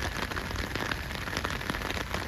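Heavy rain from a rainstorm in Montecito pours down steadily with a dense, even patter on surfaces, close and continuous.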